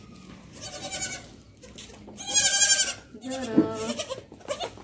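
Young goats bleat in a village, several loud wavering cries in bursts with short gaps, close by, with a little talk now and then.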